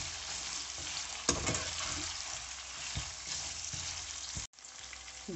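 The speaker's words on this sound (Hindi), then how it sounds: "अब हमारी चांपे फ्राई हो चुकी हैं" Mutton chops frying over high heat in a pot for yakhni pulao, a continuous close sizzle broken by a few stirring knocks and a brief cut near the end, with no talking.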